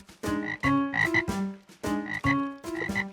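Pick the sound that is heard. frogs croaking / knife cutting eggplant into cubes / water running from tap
frogs croaking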